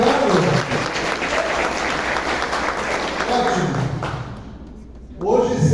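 Audience at a leadership event applauds a guest from Santa Catarina, a loud sustained round of clapping with voices under it that thins out and then swells again near the end.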